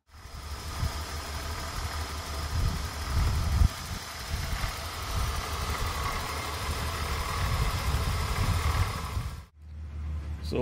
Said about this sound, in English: let's go have a listen to the engine.